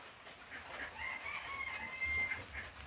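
A rooster crows in the distance in a village, faint and drawn out, over a steady outdoor hiss with no one talking, under an overcast sky with thunder.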